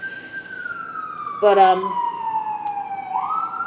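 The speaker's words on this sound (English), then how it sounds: "you got the ambulances running back and forth" Ambulance siren near a hospital, a steady wail gliding slowly downward as the vehicle passes, fairly loud and continuous, with a short burst of a man's speech partway through.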